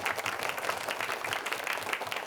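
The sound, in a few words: studio audience applause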